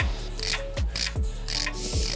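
A ratchet tightens bolts on an NTM riser kit during an install, giving a steady run of close metallic clicking strokes, each sweep repeating in an even rhythm with no voices.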